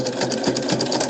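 A sewing machine back-stitches a purse pocket, running with a steady, loud mechanical whir and rapid needle chatter that carries through the whole short burst, with no voices.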